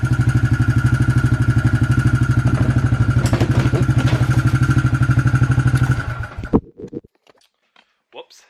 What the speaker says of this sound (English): So right now you can see it really runs good.